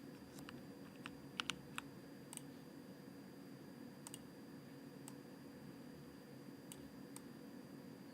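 A mechanical keyboard is tested with a typing test, giving sparse, separate key clicks, a few quick clusters and then isolated taps, quiet and close with no voices.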